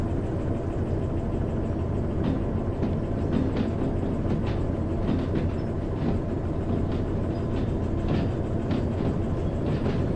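Train in the Derail Valley video game rolling steadily along rails, a continuous rumbling drone with faint rhythmic clicks of wheels over track joints, loud and close, with no talk.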